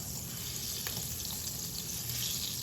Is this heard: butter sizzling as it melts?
yes